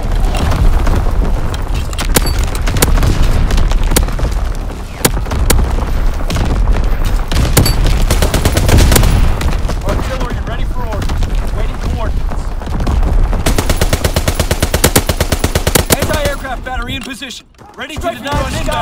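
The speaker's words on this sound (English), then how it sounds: "Firing division artillery." Artillery strikes and gunfire in Call of Duty WWII, a dense, continuous barrage of booms and rapid shots filling the whole stretch, loud and close, briefly thinning near the end.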